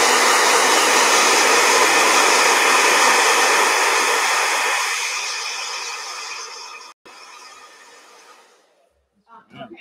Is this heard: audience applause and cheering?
no